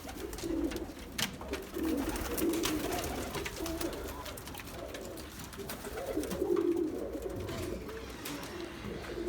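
Auction pigeons, a breeding pair, cooing: repeated soft, low cooing phrases near the microphone over a steady background of rustling and ambient noise, no talk.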